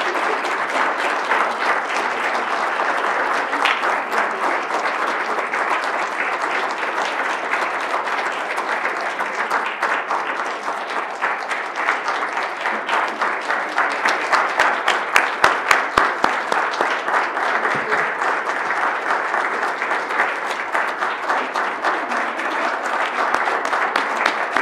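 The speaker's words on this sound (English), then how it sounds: "That's more than 40 claps, Aloma, I want you to know. And a couple of hoots." A board of education meeting audience gives sustained, dense applause lasting over twenty seconds, the clapping growing slightly louder and more rhythmic partway through.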